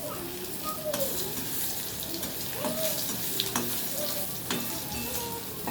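Food frying in a home kitchen pan, a soft steady sizzle with a few spatula scrapes and light clicks, quiet and close.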